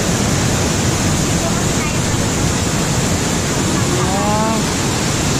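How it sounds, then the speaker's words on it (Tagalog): Strong water rushing inside a cave, Bagumbungan Cave, as a loud, steady, broadband roar that fills the whole space with no pauses and no voices over it. "Malakas ang tubig."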